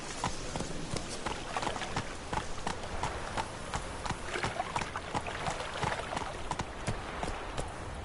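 Roach, Geralt's horse in The Witcher video game, galloping with rapid, steady hoofbeats close up, a continuous rhythmic clip-clop lasting throughout.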